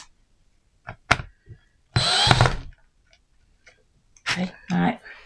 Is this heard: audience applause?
no